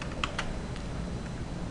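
A brief pair of computer keyboard keystrokes, a Ctrl and D press, clicking close and clear over a quiet room.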